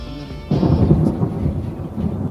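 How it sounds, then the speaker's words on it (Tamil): Deep thunder rumbles in and swells to a loud, sustained roll during a gathering storm outdoors, broad low rumbling continuing without a break after a quieter start, with no voices. "மழை வரப்போது, இடி இடிக்குது, மழை வர மாதிரி ஒரு ஃபீல் உருவாகிட்டு இருக்கு"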